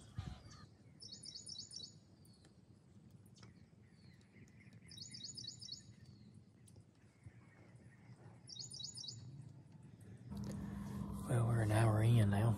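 Small birds chirping in repeated short trilling bursts in the woods during a deer hunt, moderately distant over a low outdoor rumble, with a louder burst of noise near the end.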